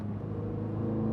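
An Aston Martin Vantage engine pulls hard under acceleration as the turbos come on boost, a deep steady droning rumble heard from inside the car, close and continuous with no talk.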